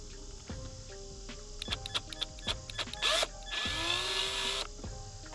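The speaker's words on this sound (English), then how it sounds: "decided to use a drill instead" A cordless drill backs out the brake master cylinder screws on an Indian Scout motorcycle, sounding in short whirring bursts with clicks between, then one longer close, loud spin.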